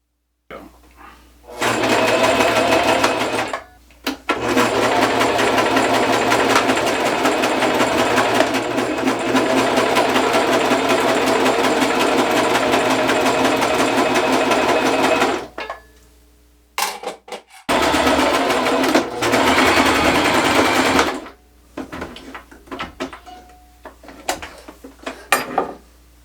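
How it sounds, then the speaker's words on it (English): A sewing machine stitches cushion fabric pieces together into a three-dimensional shape, running loud and steady in long bursts with brief pauses, then short stops and starts near the end. "I'm just going to sew down here, and that'll bring that together into the three-dimensional shape I'm looking for."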